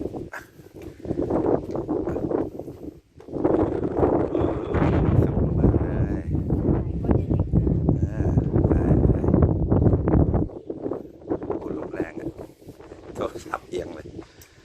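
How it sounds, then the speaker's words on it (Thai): Strong outdoor wind buffets the microphone at a Thai hilltop temple, a heavy rumbling roar that surges and drops under frequent talking, with a dog barking faintly at times. "โอ้ลมแรงมากตอนนี้"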